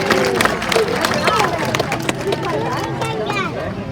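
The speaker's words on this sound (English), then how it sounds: "Give it a big round of applause." An audience applauds at a sea lion show in Blackpool, a loose scatter of claps and crowd murmur sitting under continuous talk and other voices.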